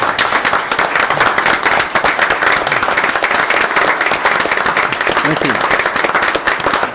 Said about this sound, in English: him a round of applause, please